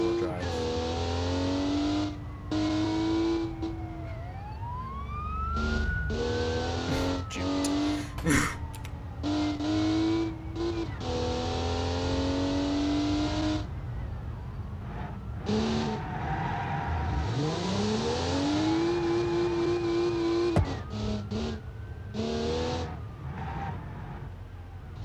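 In the BeamNG Drive driving game, a rear-wheel-drive car on grippy race tires revs hard and skids, its engine pitch sweeping up and down through repeated bursts with abrupt cuts and tire-squeal textures throughout.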